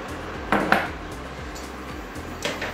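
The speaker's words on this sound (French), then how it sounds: "Donc on va venir prélever une louche de bouillon," A metal ladle knocks and scrapes against a pot while scooping chicken broth for homemade ramen, with two close clanks early on and another near the end over a steady low kitchen hum.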